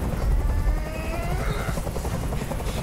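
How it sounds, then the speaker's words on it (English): A helicopter in the video game Detroit: Become Human throbs steadily overhead, a dense rotor roar with a low pulsing beat that fills the scene without a break. "I can't stand that noise anymore. Tell that helicopter to get out of here."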